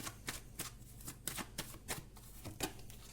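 Tarot cards being handled and shuffled by hand, a series of soft, quick papery riffles and taps at irregular intervals, close by and fairly quiet, with no speech.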